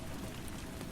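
Steady rain falling on a surface, a dense continuous hiss with soft patter and no voices, even and unbroken throughout.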